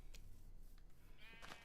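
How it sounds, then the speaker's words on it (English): Sheep bleating on a Minecraft sheep farm, a single faint, short bleat near the end after a few soft clicks, with no talking. "I got a sheep farm up."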